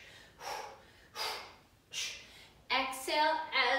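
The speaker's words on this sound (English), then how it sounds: "Exhale as we twist the body" Forceful exhales during an ab twist workout in a Muay Thai inspired session, three sharp breathy puffs in a steady rhythm, followed by a voice speaking.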